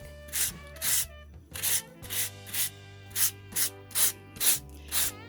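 A stencil is sanded by hand with a piece of sandpaper in about ten rhythmic, raspy back-and-forth strokes, close and distinct, with a faint low hum underneath and no talking.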